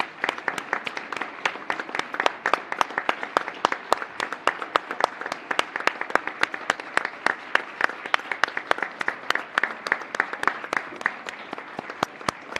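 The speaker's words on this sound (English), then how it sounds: "Let's do one more standing ovation for them." Sustained applause at a Board of Education meeting, honouring the cast and crew of a school production of Les Misérables with a standing ovation, many hands clapping steadily in a large room, no talk over it.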